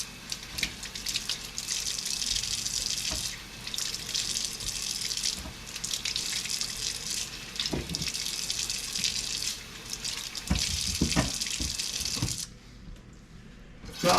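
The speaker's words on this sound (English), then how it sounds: "I'm gonna get the carrots and potatoes rinsed, just in case any dirt from when I was peeling them stayed on." Peeled carrots and potatoes are rinsed under a kitchen tap: a strong, continuous gush of water splashes close by for most of the time, shifting as the vegetables move, then cuts off near the end.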